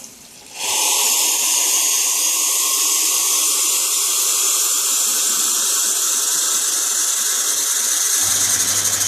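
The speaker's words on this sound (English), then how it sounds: "I'm going to add some boiling water" Boiling water poured steadily into a casserole of chicken and vegetables, a loud continuous hissing splash that starts abruptly and runs unbroken for several seconds, with no talk.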